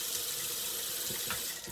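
Water runs steadily from a tap into a sink during wet shaving with a razor, a close, constant hissing splash with no talk.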